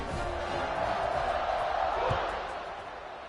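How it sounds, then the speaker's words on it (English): A football stadium crowd at an LSU game roars and buzzes after a score, a dense steady wall of noise that swells slightly midway and eases off toward the end. "this crowd is buzzing after that last score"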